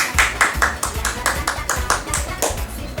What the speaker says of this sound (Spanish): Sí, niños, aplauso para ustedes.